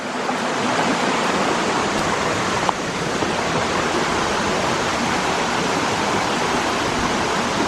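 Rushing river water pours steadily over rocks, a dense, loud, unbroken wash that fills the whole stretch with no voices over it.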